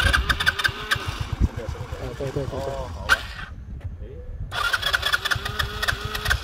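A motorcycle engine cranking and starting, then idling with a throbbing rumble, briefly dropping away before picking up again, while people talk close by throughout.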